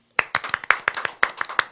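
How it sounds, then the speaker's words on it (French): A few people clap during a radio and television interview, with about ten sharp, close hand claps in a quick, slightly uneven rhythm after a short silence. "On l'applaudit."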